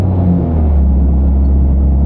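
Volkswagen Jetta race car on the Bonneville salt flats slowing to a stop, a loud, steady deep engine and road rumble filling the cabin.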